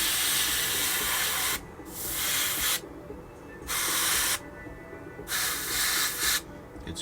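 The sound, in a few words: spray paint applied to a car license plate frame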